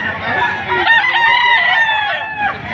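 A seven-month-old rooster for sale at a chicken market in Padre Garcia, Batangas, gives one loud, close, drawn-out crow lasting a couple of seconds, with clucking and market noise faintly behind.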